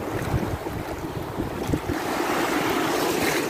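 Ocean surf washes up on a beach in a steady, continuous roar, heard up close with heavy wind buffeting the microphone.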